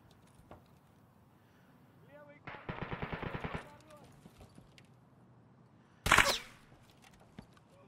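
Rapid automatic gunfire in a shooter video game, a burst of about a dozen crisp shots followed later by a single loud sharp report, with voices talking around it.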